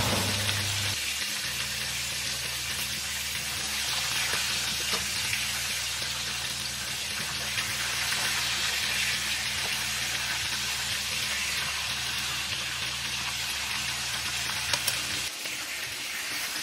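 Sardines prepared Moroccan style fry in a pan with a dense, steady sizzle and crackle that runs throughout, close and fairly loud, with a low hum underneath and no voices.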